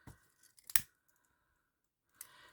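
Scissors snip ribbon while trimming a twisted boutique hair bow, with one or two crisp, close cuts in a quiet room.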